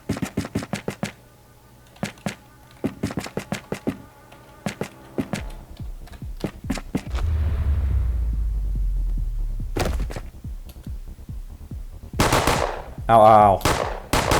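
Shotgun firing in the turn-based game Rogue: Operator Trinity, sharp repeated bursts of clustered shots with pauses between, then a low rumbling hum and later loud clustered blasts, with brief vocal exclamations.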